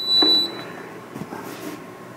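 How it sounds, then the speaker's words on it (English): A single short electronic beep from a Gourmia XL air fryer powering on near the start, followed by quiet handling noises and faint clatter. "she made a nice little beep sound there"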